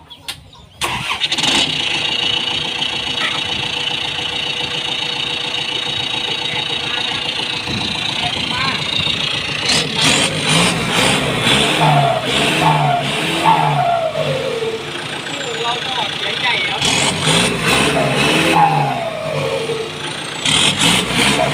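A car engine cranks and starts, settles into a steady idle, then revs up several times, with people talking over it.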